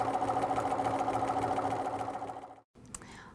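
A sewing machine stitches steadily around the edge of a quilted potholder, a close, even rapid whir with a regular pulsing hum that runs continuously, stops abruptly, then resumes with a faint click and lighter mechanical noise.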